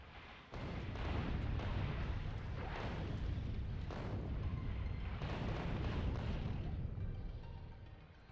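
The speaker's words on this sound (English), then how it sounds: "Explosive rockets" Explosive rockets go off in Factorio in a sustained, heavy rumble of overlapping blasts, with several sharper booms punching through the dense roar before it slowly tails away.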